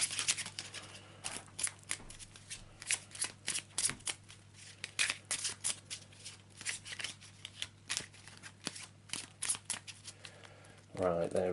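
Arkham Horror cards being shuffled close by, a long run of quick, crisp riffles and taps in irregular bursts, ending with a brief louder rustle.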